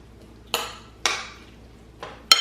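A utensil clinks against a bowl while a sauce for Vietnamese grilled pork is mixed, four sharp isolated taps spaced about half a second apart with quiet between them.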